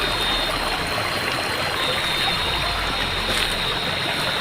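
A stream flows steadily at night, a continuous broadband rush and trickle of water that stays even and close from start to finish with no other sounds.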